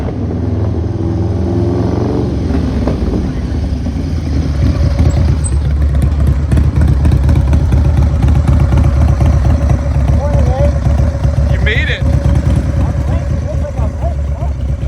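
Several motorcycles idle and rev together in a lot ahead of a group ride, a dense rumbling clatter with engines blipping close by, while people talk over the noise.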